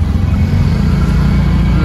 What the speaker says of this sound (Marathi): फुल ट्रॉफिक आहे